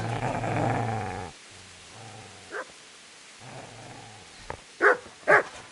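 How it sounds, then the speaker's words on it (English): A dog growls at a person in the medieval role-playing game Kingdom Come: Deliverance, a low rumbling growl at the start, then quieter snarls and a few short sharp barks or yelps toward the end. "Get away, you mutt!"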